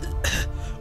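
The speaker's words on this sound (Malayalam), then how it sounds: "അന്നേരം മുതൽ ഈ ചുമയും കൂടെയുണ്ട്" A man who quit smoking cigars three years ago gives a single short, rough cough that blends into a throat-clearing sound, close and fairly loud.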